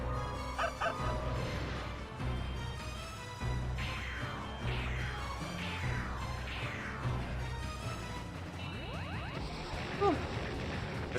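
Dog barking in the video game Radiant Silvergun, a short series of yips and bow-wow barks spaced about a second apart over busy game music and effects, with no speech.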